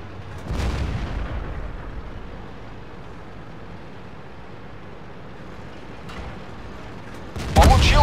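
A tank cannon fires in a tank combat video game, a T-54 among the tanks: a deep boom near the start with a long fading rumble, then a second sharp blast at the end over a low engine drone.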